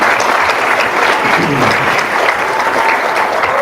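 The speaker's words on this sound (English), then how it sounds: "Again, let's give our panel a round of applause." Loud, dense applause from the audience at an annual Martin Luther King Jr. celebration program honoring a community panel, steady and close throughout, with faint voices mixed in.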